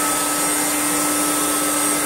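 A Hoover Turbomaster U5078 upright vacuum cleaner, repaired and refurbished, runs close up and loud with its handle reclined and the brush engaged, giving a steady roaring whine with a constant high tone.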